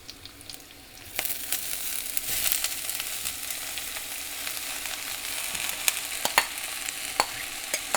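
Spring onion sizzles and is stirred in a pan with dal, a soft steady frying hiss that swells after the greens go in, punctuated by occasional scrapes of the spoon, with no talking.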